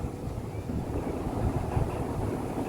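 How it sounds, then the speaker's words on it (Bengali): Strong wind roars steadily with a dense low rumble and gusty buffeting against the microphone in an open field before rain under cloudy sky, no voices present. "এদিকে ঝোড়ো হাওয়া দিচ্ছে"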